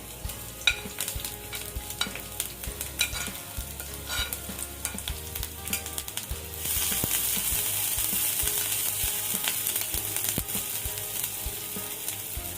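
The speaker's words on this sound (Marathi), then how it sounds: "आता मी इथे थोडंसं तेल घालून घेते आपण ह्याच्यामध्ये आता घालूया ओली मिरची" Green chillies hit hot oil in a pan for a poha and pea patti samosa filling, a dense close sizzle with repeated metallic stirring clicks, swelling louder and more continuous partway through.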